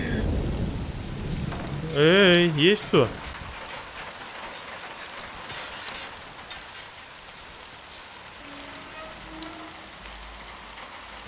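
Steady rain pours over a farm in the game Mafia: The City of Lost Heaven, a broad soft hiss running the whole time with faint low rumbles, while a voice calls out briefly near the start.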